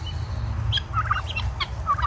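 Female turkey calling in a farmyard, with repeated short two-part chirping yelps rising over a steady low rumble of background noise; moderately faint, with no talking.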